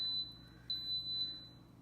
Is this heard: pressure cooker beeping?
yes